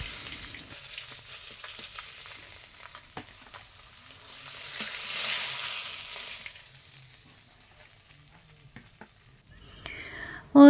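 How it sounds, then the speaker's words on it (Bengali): Cumin seeds and dried red chilies sizzle in hot leftover fish-frying oil, a soft, steady crackle that rises and fades with light stirring before a sharp clatter at the very end. "মাছ ভাজা সেই তেলের মধ্যে আমি ফোড়ন দিয়ে দিলাম জিরে, শুকনো মরিচ"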